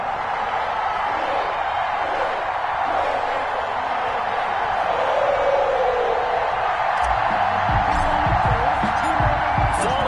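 A sold-out Cincinnati stadium crowd in an NFL football video game roars as a steady, dense wash of cheering, with play-by-play commentary talking over it throughout.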